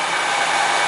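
A car engine idles steadily during an alternator charging test, giving a continuous broadband hum at close range with no talk over it.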